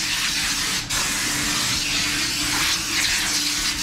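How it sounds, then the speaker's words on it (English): Compressed air hose blasting dust off a Mustang body panel before spray painting, a loud, steady close hiss that holds nearly continuously with one brief dip. "I wanna get my air hose and try to blow off"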